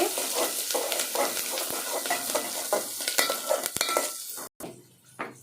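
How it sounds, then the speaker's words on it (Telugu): Dried red chillies, curry leaves and onion fry in hot oil, giving a steady close sizzle with repeated stirring scrapes and clinks of a spoon against the pan, which briefly cut off near the end. "ఎండుమిర్చి, కరివేపాకు వేస్తున్నానండి. తర్వాత ఎర్రగడ్డ వేస్తున్నానండి. బాగా ఎర్రగా వేగాలండి ఇది."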